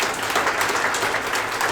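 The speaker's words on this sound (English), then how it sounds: "Let's give him a round of applause." Steady applause from an audience at an indie game developer meetup, a dense wash of many hands clapping together without pause.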